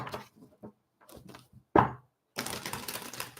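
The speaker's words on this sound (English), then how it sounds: "One more shuffle, then we're going to pull the cards." A deck of tarot cards handled and shuffled: a few soft taps and one sharp knock, then a dense papery riffle of cards, close and alone without talk.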